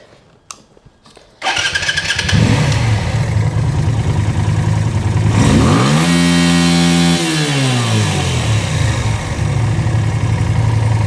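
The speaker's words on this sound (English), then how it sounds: "The bike sounds great. It responds to throttle perfectly. It drops back to idle perfectly." A VL250 bobber motorcycle fitted with 48mm pod filters cranks with a few clicks, fires up loud and close, rumbles at idle, then rises through a throttle blip and settles smoothly back to a steady idle.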